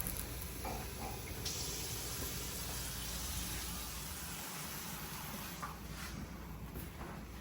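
Water pours steadily into a cooking pot for Jamaican-style oxtail with rice and peas, a continuous hissing splash running throughout with no one speaking.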